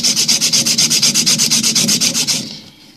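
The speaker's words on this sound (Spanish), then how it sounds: "lo limpiamos. Bien limpito, porque esto es hierro." An iron pipe in a domestic refrigeration system is scrubbed clean before soldering with rapid, even back-and-forth abrasive strokes, about twenty close, loud rasps that stop abruptly near the end.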